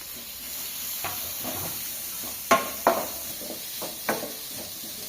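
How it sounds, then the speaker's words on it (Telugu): Thinly sliced onions are added to butter with prawns in a pan for a Telugu prawn curry, giving a steady hiss of sizzling frying with a few sharp clinks of a spoon against the pan. "ఇప్పుడు సన్నగా కట్ చేసి పెట్టుకున్న ఉల్లిపాయలని కూడా వేసుకుందాము"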